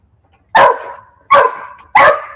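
Dog barking outdoors, three loud, close barks spaced evenly apart with quiet in between.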